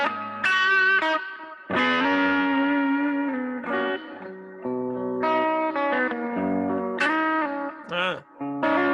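Electric guitar played through a Kemper Stage modeled amp with overdrive, sustained distorted chords and single notes ringing loud with effects, no voice heard.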